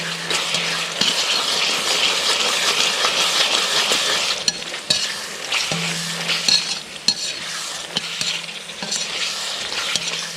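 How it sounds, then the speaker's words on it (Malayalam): Chilli soya masala stirred in a hot pan, with a constant close sizzle and regular scraping strokes and occasional clinks of the spoon against the pan's metal. "ഇത് നമുക്ക് നല്ലപോലെ ഒന്ന് ഇളക്കാം."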